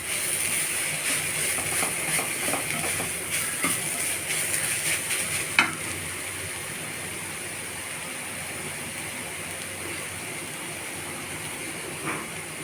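Grated carrot halwa mixture with sugar fries in a pan, giving a steady close hiss with light stirring scrapes that fade quieter toward the end, and no voices.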